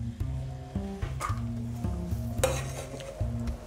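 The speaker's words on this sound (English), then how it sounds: "So into your pan go your onions." Onions go into a hot pan for beef stroganoff, sizzling softly while a utensil scrapes and clacks against the pan in repeated stirring strokes, close and without talk.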